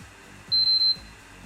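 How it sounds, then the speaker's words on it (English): A PlayStation 5 console gives a quick double beep, two short high electronic tones back to back, clear and alone over faint background hum. "so you get that angry double beep that we all know"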